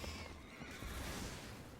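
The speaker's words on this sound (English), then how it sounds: "There's a horse." A horse neighs and whinnies in a Magic: The Gathering match, a loud, steady whinny filling the whole short moment with no talk over it.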